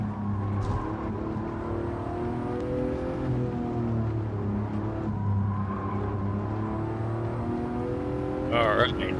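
Engine of an Aston Martin DB11 with a 5.2 litre twin turbo V12 in a racing video game, a steady droning run at Tokyo with someone talking over it.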